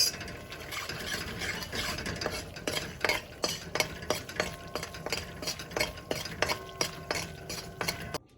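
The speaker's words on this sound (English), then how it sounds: "I started roasting dana methi in this pan" Dana methi (fenugreek seeds) roasting in ghee in a pan, heard as a steady run of quick scraping and ticking stirring strokes over a faint sizzle, close and alone.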